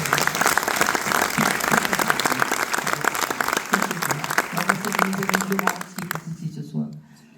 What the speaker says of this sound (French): elle mérite nos acclamations